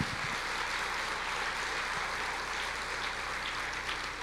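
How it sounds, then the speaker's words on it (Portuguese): A church congregation applauds during a service, a steady wash of many hands clapping with no break. "Você pode aplaudir o Senhor?"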